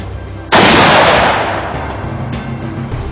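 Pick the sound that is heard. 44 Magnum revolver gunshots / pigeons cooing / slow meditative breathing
44 Magnum revolver gunshots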